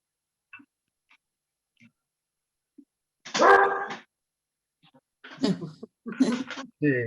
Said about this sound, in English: Oh yeah, that's my dog.